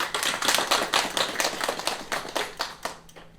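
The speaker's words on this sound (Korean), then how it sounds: "우리 가장님들에게 격려의 박수 한번 쳐드립시다" A church congregation claps at a Sunday worship service to encourage the house church leaders, a dense, fairly close burst of hand claps with a loosely rhythmic pulse that thins out and stops.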